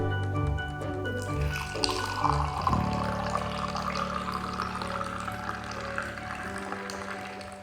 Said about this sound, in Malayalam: ഇനി നമുക്ക് ഫസ്റ്റ് ഈ ഒരു ഗ്ലാസ്സിലേക്ക് ആ ഒരു പാലാണ് ഒഴിക്കേണ്ടത്.